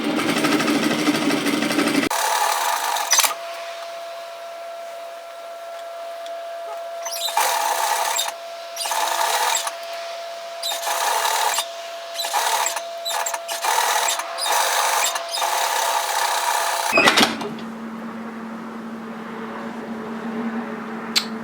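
A sewing machine stitches through thick layered seam bulk on a reversible hooded infinity scarf, running in repeated close bursts with short pauses between, steady and loud with no talking.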